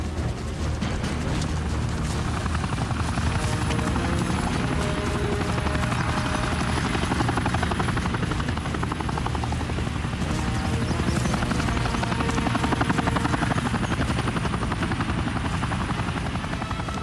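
A helicopter comes in to land in a French action film, its rotor beating in a loud, continuous, close chop alongside a high turbine whine, steady for the whole stretch with no talk.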